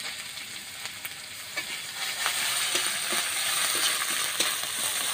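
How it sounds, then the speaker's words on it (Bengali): Onion, ginger and garlic paste fries in a pan with a steady, close sizzle, joined by occasional stirring scrapes and small clicks, and no voices. "এগুলো একটু ভালো করে ভেজে নেব।"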